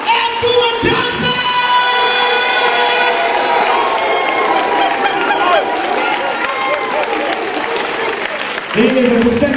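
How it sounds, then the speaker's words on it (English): A loud crowd applauds and cheers as Dr. Umar Johnson is welcomed on stage, a dense roar of clapping with shrill whoops and voices shouting over it, sustained for several seconds before a brief dip and swell. "Put the hands together for this brother"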